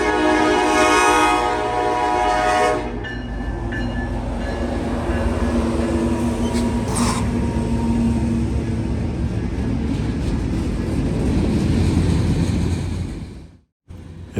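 Norfolk Southern train 170 passes at night near Casey's Carryout in London, with two NS Heritage units, Virginian 1069 leading and Erie 1068 fourth. Loud horn blasts open, then a long, heavy rail rumble of passing cars runs before cutting off abruptly.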